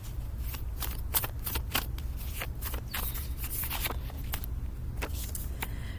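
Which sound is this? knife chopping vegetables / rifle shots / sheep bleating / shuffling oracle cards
shuffling oracle cards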